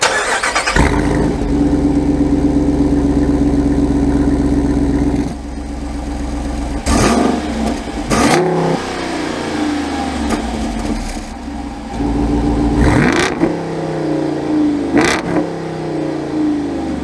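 Modified Jeep Wrangler Rubicon 392 V8 idling with a deep rumble, then revving hard in several loud bursts as it sets off off-road, close and powerful.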